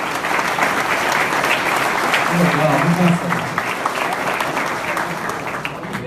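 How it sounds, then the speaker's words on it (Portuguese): A lecture audience applauds steadily for several seconds, a dense wash of clapping with a voice speaking briefly over it. "A salva de palmas pro Sérgio."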